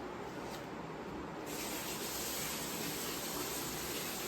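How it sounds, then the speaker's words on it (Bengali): Running tap water splashes steadily over raw meat in a home kitchen, a continuous broad hissing spray that grows slightly louder partway through, with no voices. "এই দেখো মাংসটা ঢেলে নিয়েছি, এবার ধুয়ে নিই ভালো করে"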